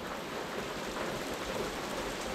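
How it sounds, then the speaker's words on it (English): Steady, soft rain falls at night, a dense even hiss of drops with no distinct individual patters. "You ever just sit in the rain and wonder?"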